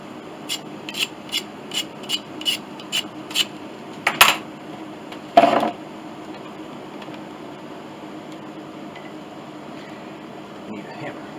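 A few short, sharp scraping strokes from a hand tool scoring wood during a Mason & Hamlin piano rebuild, close by, then quiet background hiss.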